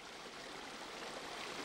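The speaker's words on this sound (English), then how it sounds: "On the low tide, the current flowing over the rock bar presents a challenge." River current flowing over a rock bar at low tide in an Australian river, a steady, even rush of water heard close and alone throughout.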